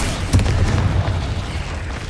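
A deep, rumbling boom from a Confringo blasting spell in Hogwarts Legacy, one muffled explosion that fades over about two seconds.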